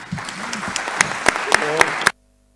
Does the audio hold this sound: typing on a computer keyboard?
no